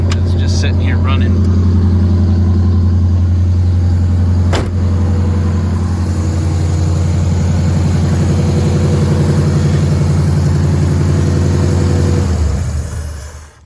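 A 1952 Ford Customline with a flathead V8 idles loudly and steadily close by, a deep even rumble that runs for about twelve seconds before the engine is switched off and dies away.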